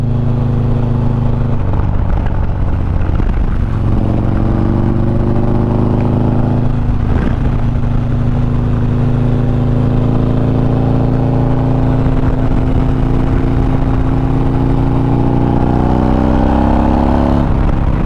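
A Stage 4 Harley-Davidson Street motorcycle accelerates hard through a curve, its engine loud and close, revving with a rising pitch that builds continuously over about eighteen seconds with brief shifts along the way.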